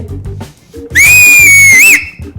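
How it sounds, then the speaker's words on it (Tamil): A cricket fan blows a loud, piercing whistle in one sustained shrill tone that wavers at the end, lasting about a second over a background of low chatter. "பெரிய விசில் போடு"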